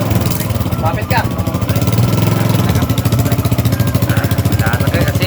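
Motorcycle engine running nearby with a rapid, throbbing mid-pitched putter that rises and falls, heard under loud, overlapping talk from several people.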